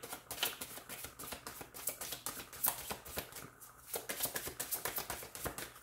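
Tarot cards being shuffled close up, a run of quick papery riffles and soft taps in uneven bursts with brief pauses, fairly quiet and alone.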